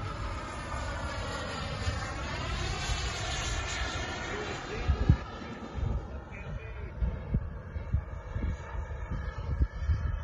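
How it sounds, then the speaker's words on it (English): A small propeller airplane with its gear down flies past at a sundowners fly-in, its engine drone sweeping in pitch as it passes at moderate distance under a broad wind-like hiss. "We could watch him fly and film his airplane."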